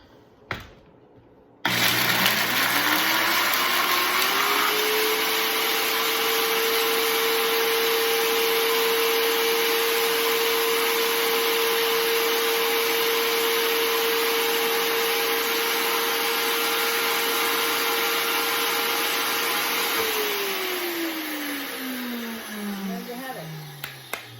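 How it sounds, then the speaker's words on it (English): A high-speed blender grinding dried cherry tomatoes into powder roars at a steady, loud pitch for about twenty seconds, with a brief spin-up at the start and a winding down at the end. "a high-speed blender, how quickly it'll zap these up into a powder for you."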